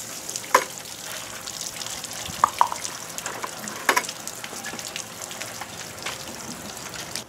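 Water gushing steadily through a Model A car radiator during a flow test, a continuous rushing wash with a few sharp splashes and drips on top, close and moderately loud with no talk.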